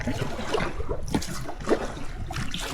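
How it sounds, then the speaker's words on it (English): A solo kayak runs fast water on the Yukon River, with steady rushing and trickling of current around the hull and a few brief splashes close by. "Yeah, this is the fast water."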